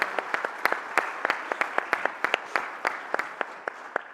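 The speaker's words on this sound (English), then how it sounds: "Let's give him a round of applause." Sparse clapping from a small group, individual sharp claps scattered irregularly over a few seconds, fairly close and moderate in volume.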